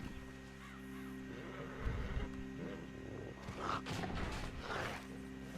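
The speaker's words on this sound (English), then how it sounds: "That's a real tiger." A tiger in the Red Dead Redemption 2 video game gives low, growling roars over a steady game hum, with rougher bursts near the middle and end.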